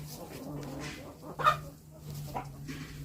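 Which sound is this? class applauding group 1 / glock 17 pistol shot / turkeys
turkeys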